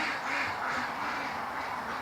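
A flock of ducks quacks steadily at close range, their overlapping calls forming a dense, continuous chatter at a moderate, even level.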